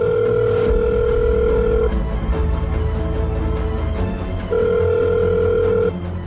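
A telephone rings during a call on speakerphone, its steady electronic ring tone sounding in two long bursts with a pause between them, over a low background hum.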